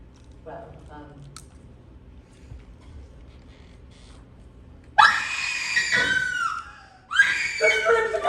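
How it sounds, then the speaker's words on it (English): Loud, shrill screams from a bathroom burst out in two long bouts during a stage production of Clue, following quieter stage dialogue and rumbling background noise. "The screams are coming from the bathroom."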